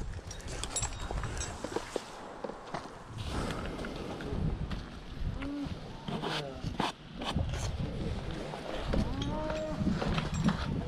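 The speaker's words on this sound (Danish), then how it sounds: "Er det køer, eller hvad?" Cows moo repeatedly, several drawn-out calls overlapping at moderate distance, with people talking and outdoor noise throughout.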